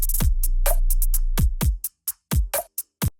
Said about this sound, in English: you can hear both the dubstep wobble and the tuba sound